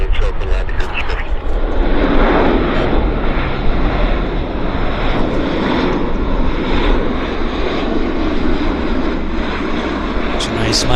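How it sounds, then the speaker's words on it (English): An airplane landing at Vancouver airport, a loud steady roar of aircraft engines that swells and holds throughout, heard close with a voice talking over it. "It's a nice landing."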